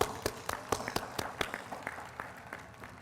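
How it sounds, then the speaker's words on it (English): Scattered applause from an audience at a formal ceremony, sparse and uneven claps with distinct individual hand strikes, moderately close and fairly quiet, no talking. "Please give them a big round of applause."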